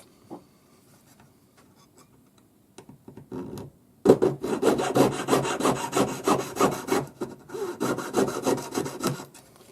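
A jeweller's saw cuts a piece of metal hinge tube off for a ring: a few tentative strokes, then fast, rhythmic rasping back-and-forth sawing, close and distinct.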